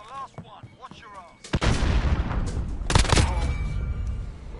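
Gunfire in a shooter game: two heavy, booming shots about a second and a half apart, each followed by a long rumbling decay, with brief speech-like sounds before them.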